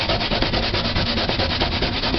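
Food is rubbed rapidly against a grater, giving close, steady rasping strokes in a quick even rhythm with no talking.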